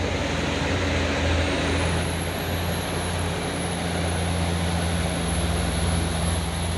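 A trailer truck passing on a road in Indonesia, a loud heavy engine and tyre roar close by with a rising high whine partway through, steady and continuous without speech.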